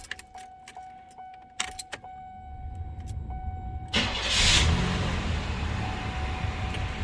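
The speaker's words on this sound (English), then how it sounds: "So I'm gonna go ahead and we'll start it up for you." A 1991 Buick LeSabre Limited sedan with low mileage has keys jangling in the ignition, then the engine cranks, catches and settles into a steady, fairly loud idle close by, with no talking.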